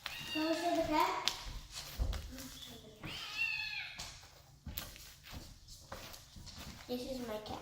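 A pet cat meows a few times, mid-distance, mixed with a voice, light tapping and handling noises in a busy room.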